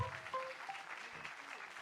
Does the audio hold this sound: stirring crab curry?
no